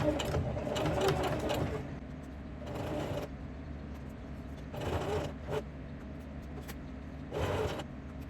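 A serger sewing machine stitches along fabric edges in four short bursts of fast, whirring mechanical chatter, separated by brief quieter pauses.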